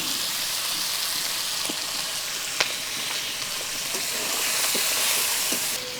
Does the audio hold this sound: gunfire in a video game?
no